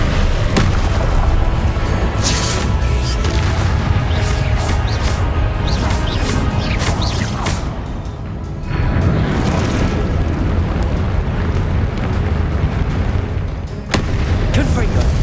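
Confringo explosion spells in the Hogwarts Legacy video game, a loud, nearly continuous barrage of booming blasts and crashes with a brief dip in the middle before the detonations resume.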